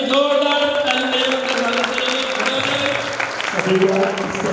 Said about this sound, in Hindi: एक कलाकारों के लिए जोरदार तालियां